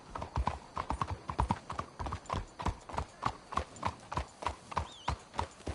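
Horses' hooves clip-clop in a steady, rhythmic trot in a video game, a close, regular series of sharp knocks running throughout with a brief whinny near the end.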